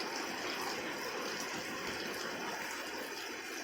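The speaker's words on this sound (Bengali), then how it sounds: "এই যে বৃষ্টি পড়ছে দেখেন" Rain falling in Ramnagar as rainwater rushes past a house like a river, a steady, dense wash of pouring and flowing water at constant loudness, with no voices heard.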